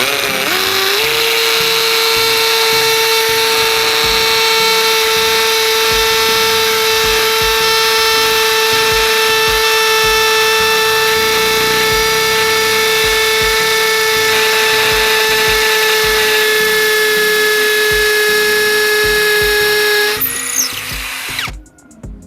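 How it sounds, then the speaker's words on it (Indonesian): A Tekiro XV 20V cordless drill whines loudly and steadily for about twenty seconds drilling concrete, its pitch holding constant before it stops abruptly. "sekarang kita coba akan untuk ngebor beton"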